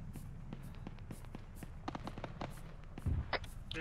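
Mortar fire and explosions in the military game Arma 3, a rapid series of sharp distant cracks and thumps, with one heavier boom near the end, over a faint rushing background.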